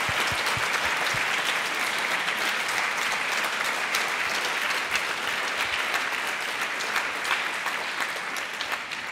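Sustained audience applause fills a conference town hall, dense and steady clapping from a large room that holds at full strength and only tapers slightly at the very end.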